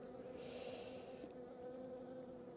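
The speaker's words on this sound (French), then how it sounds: "Beaucoup d'abeilles" Honeybees buzz at a hive during a late-winter inspection, a steady droning hum with a few brief higher whines from bees passing close, no talk.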